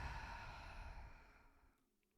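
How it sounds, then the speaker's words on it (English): A long, audible exhale through the mouth during a vinyasa yoga flow, a soft breathy rush that fades out over about two seconds, close and alone. "Exhale through the mouth."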